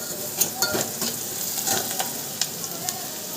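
Onions sizzling and frying in a pan with the occasional scrape of stirring, a steady broadband hiss punctuated by small crackles and clicks, close and moderately loud.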